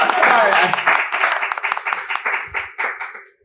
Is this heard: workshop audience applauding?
yes